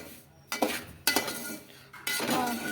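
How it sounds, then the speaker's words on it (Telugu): Semolina for upma being roasted in oil in a pan, heard as bursts of metal spoon scraping and clinking against the pan in three loud stirring passes with a soft sizzle between. "నూనె పోసి రవ్వ వేపుకోవాలన్నమాట."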